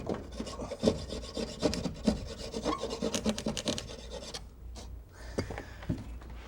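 A saw rasps through wall material to cut an outlet hole, a continuous scraping and rubbing with quick repeated strokes. The sound is fairly close and loud, then stops briefly before a few final scrapes.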